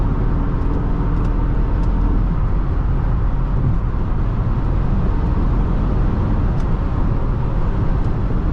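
A 2010 Toyota Camry LE with the 2.5 engine accelerating at highway speed, a loud continuous engine and road roar with heavy wind and tire noise filling the cabin, steady and unbroken.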